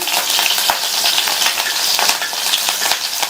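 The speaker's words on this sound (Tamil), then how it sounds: "நம்ம சேர்த்த இந்த பச்சை மிளகாய் எண்ணெயிலேயே நல்லா வதங்கட்டும்." Chopped green chilies frying in hot oil with mustard and cumin, a loud close crackling sizzle with scattered pops and a light spoon scrape, continuous throughout with no voices.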